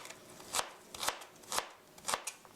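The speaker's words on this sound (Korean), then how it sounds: "얇게 썰어 주세요" A knife thinly slicing ingredients for tomato cheese toast on a cutting board, four crisp chopping strokes spaced about half a second apart, close and moderately loud, with no talk.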